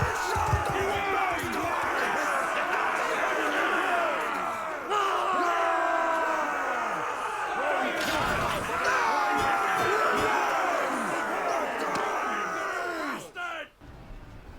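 Medieval troops in Mount and Blade II Bannerlord shout and cheer together, a loud, dense crowd roar with rising and falling voices that fades out at the end.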